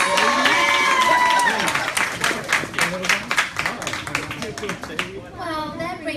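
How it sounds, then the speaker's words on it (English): Audience applause at a charity ball for kids in New Jersey, a crowd clapping and cheering steadily under music and a voice, staying fairly loud throughout. "Give another round of applause"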